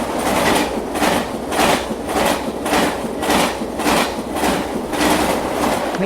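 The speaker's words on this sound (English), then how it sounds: "Train." A train passes as a game sound cue in the iOS audio game Blindfold Runner, with a steady, rhythmic clickety-clack of wheels over rail joints, loud and close throughout, with no voices.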